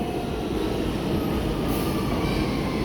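A New York subway R160 train rumbles past steadily, with a continuous loud roar of wheels on rails and a faint high squeal near the end.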